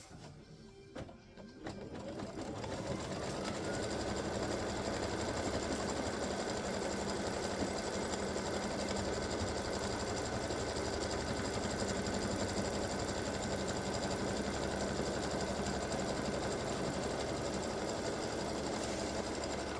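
An embroidery machine stitches a placement line for bottom fabric, starting up and then running in a steady, dense mechanical whir for nearly twenty seconds, close and continuous with no talking.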